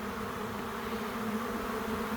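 A honey bee swarm moving into empty hive boxes, a dense, loud, continuous buzzing hum from many bees surrounding the listener at close range, with no voices.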